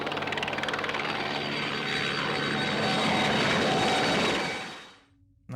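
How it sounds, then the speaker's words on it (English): A helicopter in the 1970 film Figures in a Landscape roars steadily and loudly, its rotor thumping and engine whining, then the sound cuts off abruptly near the end. "And the helicopter's still flying."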